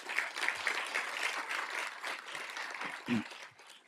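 An audience at a city address applauds steadily, a dense, even wash of clapping from many hands that carries through without a break.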